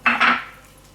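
A utensil clinks twice against a bowl while a fish ball mixture is worked together with bread, two quick bright knocks close to the listener and then a fading ring.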